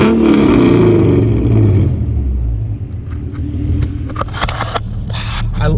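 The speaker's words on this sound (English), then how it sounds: "I think I love the exhaust." A Ford Mustang 4.0 V6 with Mutha Thumpr cams and an aftermarket exhaust revs hard, giving a deep, loud, lumpy rumble that drops back to a choppy, uneven idle.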